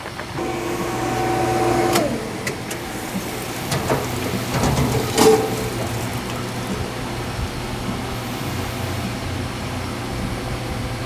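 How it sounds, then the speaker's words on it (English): A parts washer in a mechanic's workshop runs with a steady whirring, spraying hum. Occasional clanks and knocks break through close by, and nobody speaks. "you might need a stronger parts washer than this bad boy. It's letting us down."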